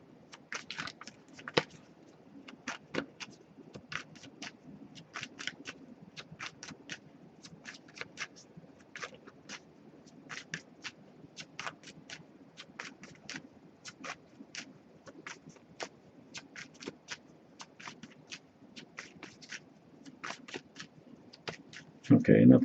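Oracle cards being shuffled repeatedly for a long stretch, crisp riffling bursts coming in irregular rhythm, close and fairly quiet, with a soft murmur of rain behind.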